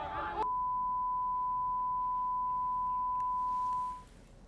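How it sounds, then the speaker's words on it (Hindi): A steady censor bleep tone held for about three and a half seconds, masking abusive words in a Hindi news broadcast, preceded by a brief burst of talk and then near silence. "जिसे हम आपको सुना नहीं पाएंगे, इसीलिए हमने बीप कर दिया है उस लाइन को।"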